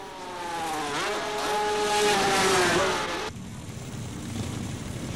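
Racing motorcycles at the Daytona circuit in 1976 roar past with rising and falling engine whine, loud and close, then the sound drops abruptly to a duller distant hum of engines.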